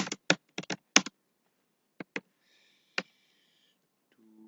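Several quick bursts of clicking keys on a computer keyboard while entering a command in the Windows CMD prompt, clustered keystrokes followed by a few isolated taps, close and crisp in a quiet room.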